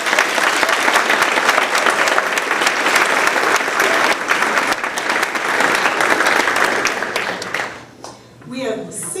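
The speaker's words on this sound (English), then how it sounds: "A round of applause for our attendance." Loud, dense applause fills a school board of trustees meeting room, continuing steadily before tapering off near the end, where a person begins speaking.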